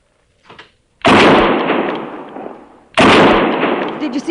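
Two loud, close rifle gunshots in an old radio drama, each a sharp crack followed by a long, noisy decay, about two seconds apart, with a brief faint sound before the first.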